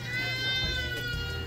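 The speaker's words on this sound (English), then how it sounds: "we've got some Dall's sheep on the other side of the fence over here" A Dall's sheep at Como Park Zoo gives one drawn-out, wavering bleat at moderate distance over low background hum.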